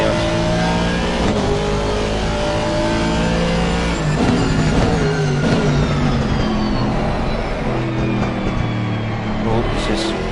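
Race car engine in Assetto Corsa Competizione at Oulton Park, revving loud and steady with rising and falling pitch sweeps through gear changes, running continuously with faint talk in the background.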